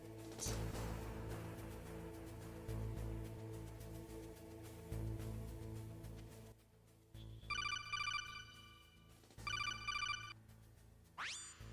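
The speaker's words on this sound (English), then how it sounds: "We get about there, and our phone rings." A telephone ringtone sound effect rings out in two bright, repeating electronic bursts, ending on a rising sweep, after a stretch of steady background music.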